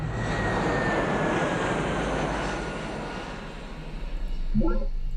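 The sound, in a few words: jet aircraft flying, from video game Alpha Centauri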